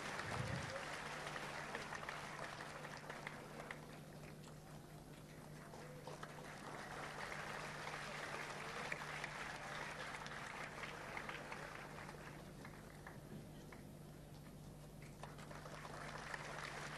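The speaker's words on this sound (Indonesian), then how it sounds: "sekali lagi tepuk tangan yang keras untuk para" Applause from the audience at a Waisak musical drama performance runs continuously, a moderately loud, steady clatter of many hands with a low hum underneath and crowd voices mixed in.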